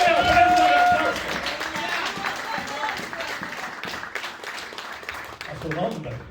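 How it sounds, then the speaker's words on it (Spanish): A church congregation bursts into applause during an evangelistic sermon, a loud, crowded patter of clapping mixed with cheering voices that eases slightly before swelling again near the end. "Debe ofrenda de aplauso"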